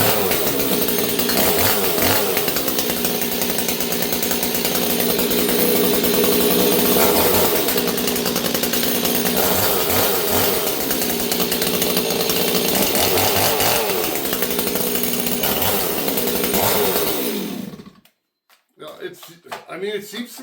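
A chainsaw running on choke roars loud and steady up close for about seventeen seconds, with the engine note wavering, then cuts out abruptly into quiet.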